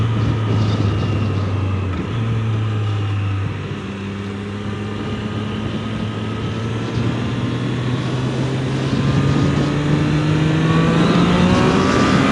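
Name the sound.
Triumph Street Triple 765 RS downshifting with rev matching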